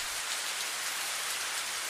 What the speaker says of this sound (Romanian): A început, în schimb, o ploaie torențială.